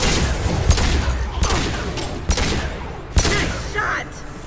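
Gunfire in the video game Mass Effect 2, several sharp, loud shots and bursts spaced a second or so apart over a rumbling battle backdrop, with voices talking between them.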